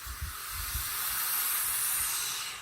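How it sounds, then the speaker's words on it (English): An aerosol spray can hisses steadily over resin molds, one sustained close spray lasting a few seconds, with a few soft low bumps at the start. "I'm going to spray these before I bring them out of here."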